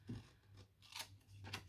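Paper being cut with scissors while the sheet is turned between cuts for a homemade pencil-box gift: several quiet, crisp snips spaced through the stretch, close and alone.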